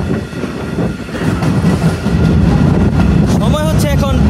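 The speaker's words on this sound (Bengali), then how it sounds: "আমাদের ট্রেনটি এখন 35 কিলোমিটার গতিতে এগিয়ে যাচ্ছে" A stone-carrying freight train travels at about 35 km/h on the line from Dhaka over the Padma Bridge toward Bhanga, a loud continuous rumble and rattle of wheels with a brief high squeal near the end.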